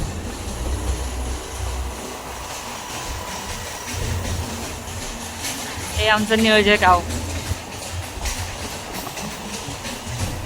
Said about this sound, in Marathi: इथून ट्रेन चालली आहे